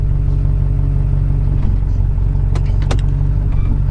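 Duramax diesel truck with a 6-speed transmission conversion idling with a loud, steady low rumble close by as it shifts into gear, a few sharp mechanical clicks and clunks standing out near the end.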